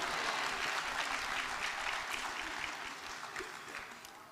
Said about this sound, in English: Can I at least get an applause for trying?